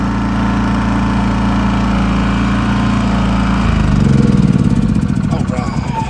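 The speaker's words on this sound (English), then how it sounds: "We turn off my generator now." A portable generator on a roadside tire service truck runs with a steady drone, then shuts down and winds off partway through, leaving quieter rattling and a faint voice.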